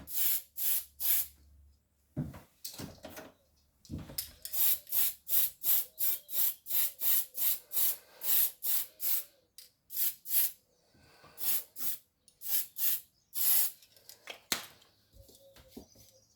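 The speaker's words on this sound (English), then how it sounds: "Give it his first coat of paint." A spray can sends short and longer bursts of hissing paint onto a Tamiya model body shell, a rhythmic series of close, loud sprays separated by brief silences.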